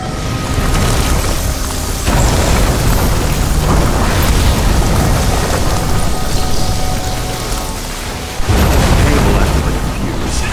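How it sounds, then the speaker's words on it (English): In the video game No Body Wants to Die, a flooded transformer catches fire and explodes. A loud, continuous crackling roar runs throughout, with a sudden sharp blast near the end. "That's what caused the explosion."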